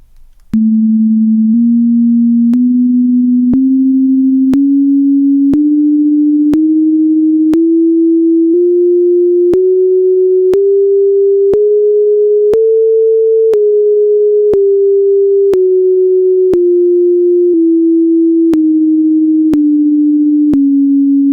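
A pure sine tone steps through the notes of a Pythagorean scale, rising then falling, one per second, each a clean steady pitch.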